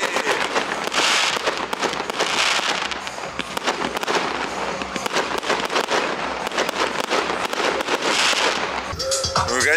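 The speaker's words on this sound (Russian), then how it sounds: "Салюты, салюты!" Dense, continuous crackling and popping of fireworks at a jet-ski festival on Lake Baikal, many rapid bursts overlapping throughout, loud and close, with faint voices in the background.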